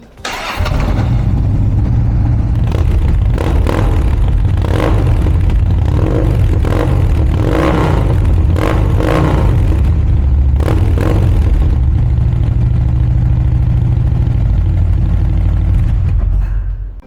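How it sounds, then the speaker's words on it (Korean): A Harley-Davidson Street Glide CVO motorcycle (2012) with CVO exhaust cranks and starts, then settles into a loud, steady rumbling idle. Short bursts of throttle rise above it. "시동을 걸어서 CVO 전용 배기의 사운드를 한번 체크해 보도록 할게요"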